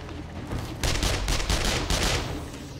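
A close, loud MP5 submachine gun in 7 Days to Die fires rapid automatic bursts, a steady rattling stream after a brief quieter start, with no talking.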